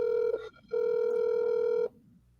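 A telephone rings twice in a steady electronic tone on a phone call, a short burst then a longer ring, loud and close, with no talk over it.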